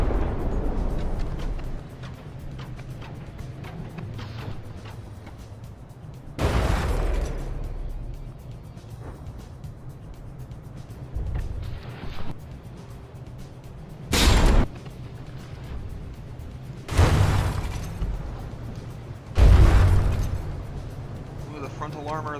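Heavy naval guns on frigates in a From The Depths tournament battle boom as several loud, separate blasts spaced seconds apart. A low rumble of combat runs underneath, and a voice talks over it.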